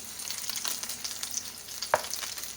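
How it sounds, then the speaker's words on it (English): Breaded fish frying in a pan after being flipped, a steady, moderately quiet sizzle with light crackles and one sharp utensil click near the end. "I like to just flip them a couple times because breadcrumbs tend to burn"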